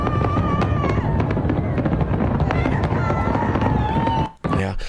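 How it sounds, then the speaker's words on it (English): Las Vegas fireworks launched from rooftops make a dense, continuous roar of booms and crackling from a distance, loud throughout, and break off briefly near the end. "What I'm not a fan of the Las Vegas fireworks is because they launch it from the roofs"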